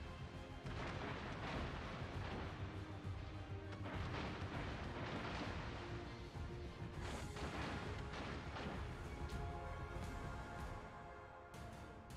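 Naval artillery fire in a warship video game: repeated heavy cannon booms and crashing impacts rolling one after another, loud and continuous, with a sharp burst near the middle and no talking.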